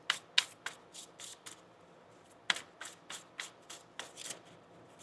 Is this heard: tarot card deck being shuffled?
yes